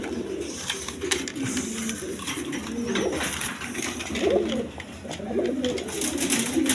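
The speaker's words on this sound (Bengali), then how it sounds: "একদম ফ্রেশ কবুতর দেখেন" Pigeons at a breeding farm coo repeatedly in low, throaty, rolling calls, several birds overlapping close by with a steady background hum and no talk.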